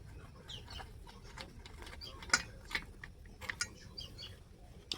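Bolts are loosened from the chain cover of a Pulsar motorbike, giving sparse metallic clicks and ratcheting ticks over a low background rumble, with a few sharper snaps standing out.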